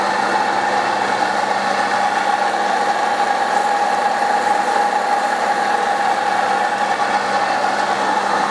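A saw cuts a metal piece in half for a shop crane build, giving a continuous harsh, buzzing grind with a strong steady tone that stays loud and unbroken throughout.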